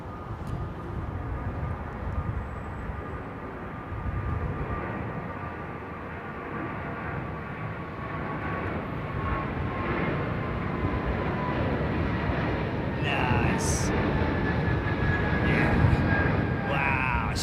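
An Airbus A380 departing Heathrow runway 09 right: a steady, distant roar of jet engines builds slowly over many seconds with a faint whine, growing gradually louder as the takeoff run proceeds.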